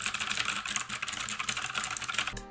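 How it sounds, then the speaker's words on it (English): Very fast, continuous clacking on a TOMOKO 87-key mechanical keyboard with stiff, tactile switches, a dense close-up flurry of keystrokes that stops abruptly at the end. "The switches are a bit stiffer than I'm used to, but it's still very tactile and feels good to type on."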